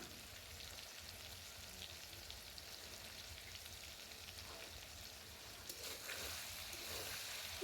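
Chicken curry with crushed spices, ginger, garlic and onion fries quietly in a pan, a soft, continuous low sizzle with occasional faint stirring clinks and a sharper knock at the very end, no talk over it.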